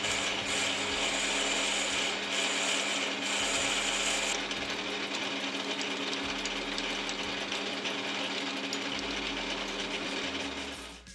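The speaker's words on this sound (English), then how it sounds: "I'll start by drilling and reaming to suit the end of the handle we just turned." Steady mechanical whirring of a lathe drilling and reaming metal, continuous and close, with a brief shift in tone partway through.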